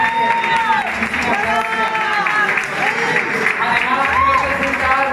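Crowd applause in a disco, a continuous clatter of clapping mixed with crowd noise, running beneath someone speaking Spanish into a microphone.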